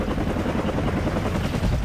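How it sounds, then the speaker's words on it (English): Helicopter rotor din from Call of Duty 4 gameplay, a loud, steady broadband thrum filling the whole stretch with no voices over it. "Okay, helicopter. That's enough."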